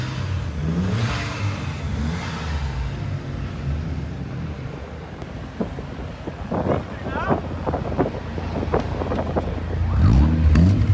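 Ferrari GTB sports car revving at a London car meet, its engine climbing in sharp bursts of acceleration amid wind buffeting and a busy outdoor crowd, with people talking nearby and another engine swelling at the end.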